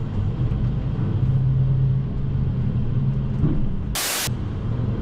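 City bus passing on a street in Marseille during a July heatwave: a steady loud engine rumble and traffic drone fills the whole stretch, with a brief burst of broadband hiss near the end.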